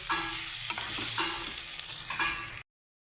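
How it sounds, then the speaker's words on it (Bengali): Rohu fish head and potato pieces sauté in spices in a pan, a steady frying sizzle with periodic stirring scrapes throughout, close and continuous, no talking. "আমি মাছের মাথা আলু একসঙ্গে কষিয়ে নেব"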